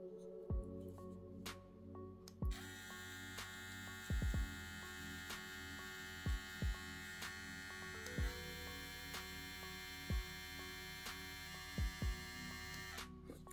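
Kemei KM 658 hair trimmer running alone, a steady electric buzz with a fixed-pitch tone that holds throughout, faint and unbroken, with a few brief clicks and no voices.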